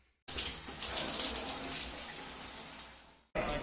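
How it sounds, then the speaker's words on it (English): Shower water runs steadily in a bathroom on a Colorado Trail hiking stop, a dense hiss that starts abruptly, holds for about three seconds, cuts off, then resumes at the end. "I'm about to take my first shower."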